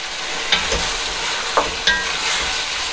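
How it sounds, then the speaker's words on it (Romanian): Porcini mushrooms and onion sauté in a pan, a continuous close sizzle with a few sharp scrapes and taps as the pieces are stirred, no one speaking. "Cărcălim un pic și hribele, vreo minut jumate, două, le tragem un pic și pe ele, împreună cu ceapa"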